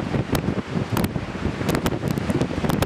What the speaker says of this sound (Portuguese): O vento é muito forte e muito frio.